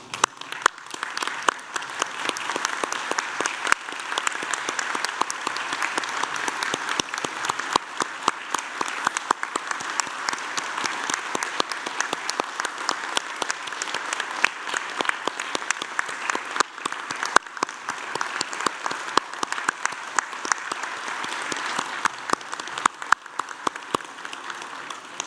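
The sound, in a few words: audience applauding graduates at a graduation ceremony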